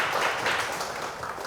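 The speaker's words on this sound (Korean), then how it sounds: "우리 박수를 한번 맞이해 주시면 좋겠습니다" Brief applause from a small audience welcoming a guest speaker to a talk, scattered hands clapping at moderate volume for under two seconds, with no talking.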